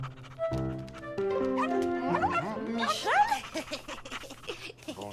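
Cartoon dog from a Christmas animated series about an apprentice Santa, heard in a few short barks and whimpering yips over music and other busy sound, with voices around it.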